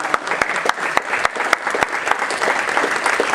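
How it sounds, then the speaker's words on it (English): A talk audience breaks into a round of applause, many hands clapping in a lively, steady patter punctuated by a few sharper, louder claps close by. "Let's give her a round of applause"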